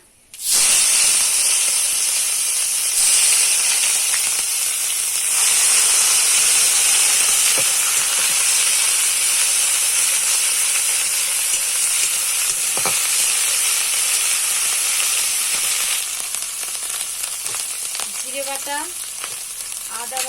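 Cumin seeds and cardamom sizzle loudly in hot oil in a pan for a katla fish kalia curry, a dense, steady frying hiss that runs unbroken for about twenty seconds with no talking.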